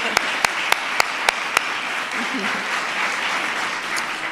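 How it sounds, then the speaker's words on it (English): At a White House holiday decorations event for military families, applause for military kids opens with a run of six sharp, evenly spaced claps. They fade into a softer crowd murmur with faint voices. "Let's give them a whole round of applause."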